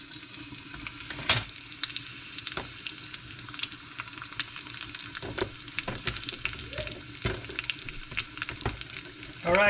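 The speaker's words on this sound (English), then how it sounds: "we're gonna be putting our jeera and our garlic to fry up here to truncate the dal" Cumin seeds and garlic frying in hot oil for a dal tempering, sharp crackling pops and spatters over a low sizzle, close by and irregular, with occasional stirring clatter and no talking.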